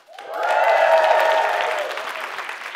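A comedy show audience bursts into loud cheering and applause that swells quickly, peaks, then tapers slightly while staying strong.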